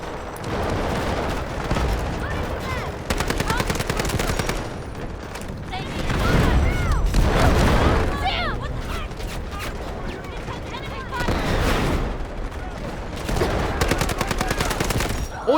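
Gunfire in the Delta Force video game: dense bursts of rapid shots and heavier booms fill the whole clip, loud and continuous, with a player talking over the fighting.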